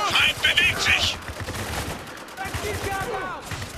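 Machine gun bursts in the war shooter Spec Ops: The Line, rapid clattering volleys close by, mixed with explosions and game noise while players talk excitedly over the gunfire.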